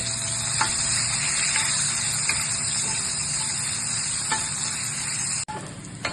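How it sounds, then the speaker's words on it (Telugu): Onions fry in a pan of hot oil, a loud continuous sizzle close by with occasional spoon clicks against the pan and a sharp clunk near the end, no voices. "ఆనియన్స్ వేసినాయి, కొంచెం ఎర్రగా వేయాలి"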